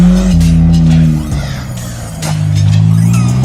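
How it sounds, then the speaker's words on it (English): A front-wheel drive car skids on snow with loud tire squeal, its engine revving high and close, dipping briefly in the middle before the revs and squealing climb again. "I love it when front-wheel drive cars can do skids."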